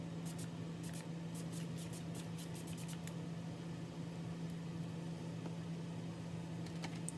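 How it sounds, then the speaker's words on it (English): Several short, quick bursts of setting spray misted onto a face, hissing in a loose cluster near the start and again briefly near the end over a steady low background hum, with no talking. "I'm gonna go ahead and spritz my face real quick with this before I put anything else on"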